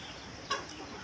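Pet chickens give one short cluck on a rainy day, a brief, moderately close call that rises out of a steady background hiss and fades quickly.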